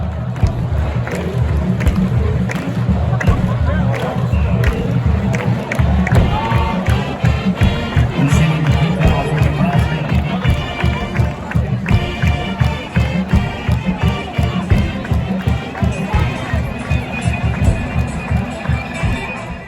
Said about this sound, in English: you got the crowd is going crazy